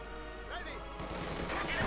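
Gunfire from T-35 tanks in Company of Heroes 2, a burst of muffled battle blasts and crackle over a steady game background hum, with explosive rumbling swelling toward the end.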